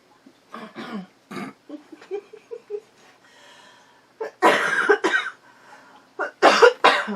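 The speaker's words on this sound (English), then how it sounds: "Oh, I get laughing too hard, I start coughing." Several harsh coughs in short bursts, close by, some in quick pairs, with a little breathy laughter between them.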